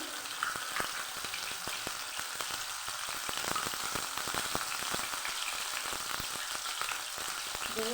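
Onion paste frying in a pan over a raised gas flame, a steady bright sizzle and crackle with small popping bursts throughout, close and alone with no talking.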